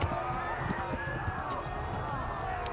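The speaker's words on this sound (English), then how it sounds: "Go, horsey!" Horse galloping in Kingdom Come: Deliverance, a steady clip-clop of hooves close by under a continuous bed of game noise and music, with a voice talking over it.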